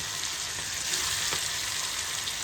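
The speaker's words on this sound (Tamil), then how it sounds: "நல்லா எண்ணெய் காஞ்சிட்டு நண்பர்களே அதனால் மீனை வந்து போட்டாச்சு" Fish, a kind of trevally, frying in hot oil makes a dense, continuous hiss and sizzle, close and steady throughout with no voices.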